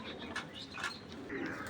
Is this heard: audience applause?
no